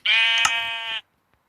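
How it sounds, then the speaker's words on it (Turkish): Sheep bleating in the Minecraft video game: one clear, loud, sustained synthetic bleat lasting about a second, then silence. "Ay koyun buldum yine."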